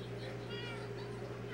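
A Minecraft cat meows in a drawn-out, game-like tone over a steady electronic hum, with faint talking mixed in.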